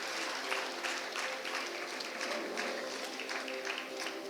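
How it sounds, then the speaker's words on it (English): Steady applause from an audience at a school association silver jubilee celebration, with faint sustained clapping continuing evenly throughout at a moderate distance. "I request the audience to please give a huge round of applause to Ms."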